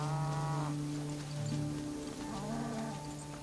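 Cattle on a Caiman Lodge ranch are herded by pantaneros through the Pantanal wetland, giving deep, drawn-out moos at moderate distance over a soft steady background hiss.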